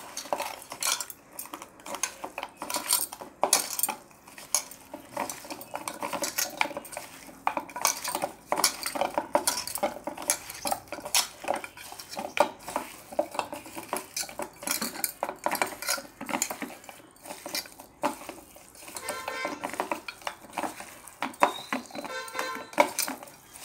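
A spoon stirs and mixes food with a little oil in a metal bowl, making quick, repeated clinks and scrapes in an uneven rhythm, close and clear with nobody speaking.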